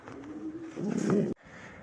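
Racing pigeons coo in a loft, a close, low throaty burble rising in intensity over about a second before stopping abruptly, followed by a soft quieter murmur.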